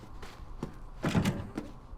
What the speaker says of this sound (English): once you walk into the doors and they're locked, you can hear the doors rattle.